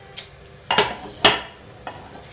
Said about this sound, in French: Je vais essayer de la retourner.